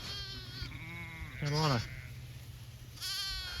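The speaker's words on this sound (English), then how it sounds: "we got a lot of beautiful sheep" Sheep in a grazing flock bleat loudly once, a wavering cry close by, with another bleat following later, while someone talks throughout.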